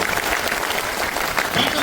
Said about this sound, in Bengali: জোরে নিজেদের জন্য হাত তালি।